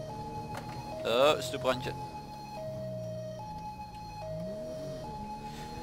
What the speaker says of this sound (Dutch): De ambulance heeft in dit geval een politie-sirene